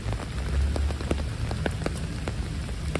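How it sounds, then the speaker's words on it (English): Steady rain pours onto a New York City street near Sutton Place, a dense, close hiss with scattered sharper drips and splats striking hard surfaces throughout, no voices. "It's been raining almost every weekend here in New York."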